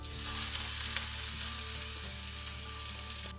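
Onions frying in ghee with mustard and cumin seeds for dal, a steady close sizzle with a low hum beneath, continuous and even throughout.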